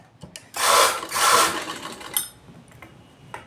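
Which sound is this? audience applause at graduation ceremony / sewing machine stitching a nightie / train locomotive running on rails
sewing machine stitching a nightie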